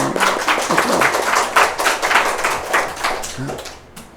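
A church congregation claps together during a Sunday evening service, a steady run of fairly close, rhythmic hand claps with voices talking over them throughout.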